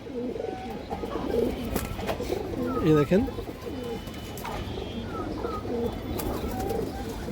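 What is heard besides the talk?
female pigeon cooing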